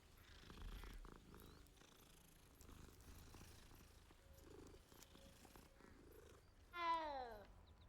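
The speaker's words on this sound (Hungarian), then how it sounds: "Itt egy cica." A cat purring in the Hogwarts Legacy video game: a steady, low, soft rumble runs throughout, and near the end a short, bright, rising-and-falling meow-like call stands out.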